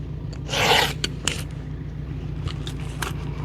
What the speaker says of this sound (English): I also count my strokes on the first tooth, so every other tooth gets the same number